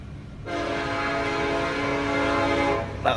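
A loud, chaotic train horn blares continuously for over two seconds as a train approaches, a steady harmonic chord that cuts off abruptly near the end.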